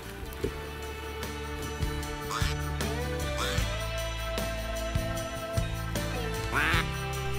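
Ducks quack repeatedly in scattered calls on a marsh during a hunt, some near and some farther off, over a steady outdoor background.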